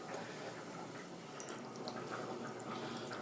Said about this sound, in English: I'm just draining some of the wort out of the mash tun, and I just do it until it's clear